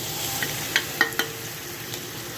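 Green chili and garlic paste frying in a pan with oil, cumin and dried fenugreek leaves, a close steady sizzle broken by a few scraping clinks of stirring, with no talking.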